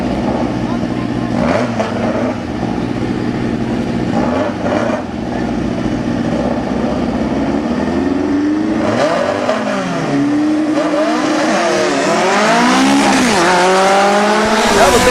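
A dragster and a buggy race down the drag strip at Silver Valley Raceway, engines roaring loudly and rising in pitch as they accelerate, with a commentator talking over the noise.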